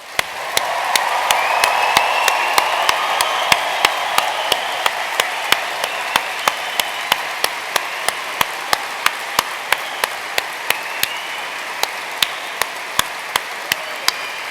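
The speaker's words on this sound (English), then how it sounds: "please join us in giving all recipients of awards and prizes a final round of applause" A graduation ceremony audience applauds award and prize recipients with a sustained wash of clapping that slowly fades, while sharp, evenly spaced clicks tick through it throughout.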